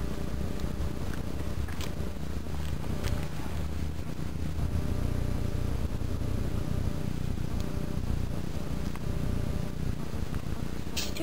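A cat purrs in a video game, a low continuous rumble holding steady and close throughout, with faint game sounds layered above it.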